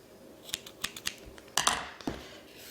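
Scissors snipping crochet yarn: a few light clicks as the blades open and settle, then one crisp, close cut followed by a softer snip.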